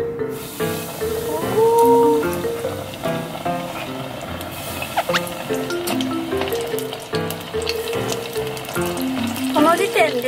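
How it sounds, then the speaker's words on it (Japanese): Frozen, fully thawed karaage chicken deep-frying in oil at about 170 degrees Celsius, a steady close sizzle and hiss running throughout, with a voice and tonal background sounds over it. "今油の温度が170度ぐらいまで上がったので揚げていきます"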